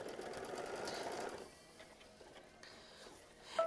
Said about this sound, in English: we're going to sew down machine stitch step 5 just to tack it down for our flip and fold